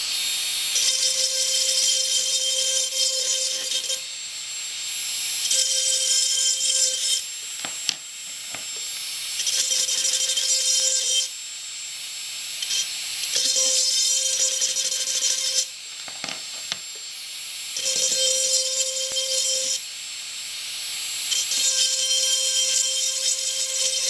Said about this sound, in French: on commence par graver l'intérieur des fermoirs